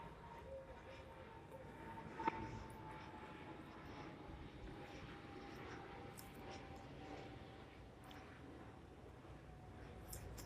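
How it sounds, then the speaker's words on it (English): Airplanes inbound and outbound over Miami drone faintly and steadily in the distance, a low continuous engine hum with a slowly falling whine, heard alone. "please don't mind the planes. This is Miami, and there's a lot of flights inbound and outbound."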